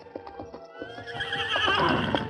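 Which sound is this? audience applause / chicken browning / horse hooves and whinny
horse hooves and whinny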